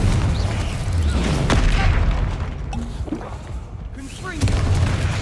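Confringo fire spell blasts in the Hogwarts Legacy video game on PC, with repeated booming explosions over a dense, continuous rumble of combat effects, loud and close throughout.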